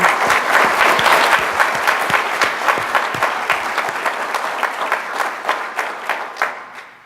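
An audience at an awards ceremony applauds the families of service members, a loud, dense burst of clapping that holds steady and then thins toward the end.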